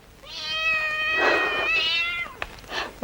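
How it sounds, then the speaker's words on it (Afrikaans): A cat gives a long, drawn-out meow that rises into a strained, caterwauling wail, loud and close, followed by a couple of short, sharp sounds. "Hoe laat so 'n kat vir mamma skrik"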